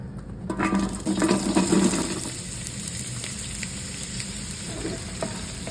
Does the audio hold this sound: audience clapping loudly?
no